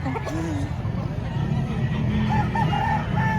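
A rooster crows amid the bustle of a chicken market in Padre Garcia, Batangas, short rising calls cutting through steady low market noise and background chatter.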